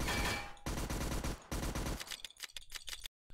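Rapid gunfire from the player's gun in a Unity survival game, a dense loud burst of shots followed by shorter, more separated shots that stop abruptly, alone with no talk.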